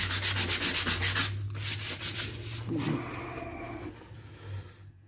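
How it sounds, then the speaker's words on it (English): Player piano valve leather is scored on flat glass in a rapid rhythmic rubbing and scraping, close and steady, easing to a softer scuff toward the end. "you're going to just score this until you're sure that you're down to leather"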